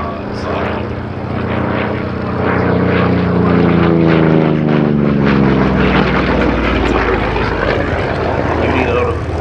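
Grumman Bearcat propeller fighter flying at an airshow, a loud sustained engine drone whose pitch sweeps as it passes, with a voice talking faintly over it.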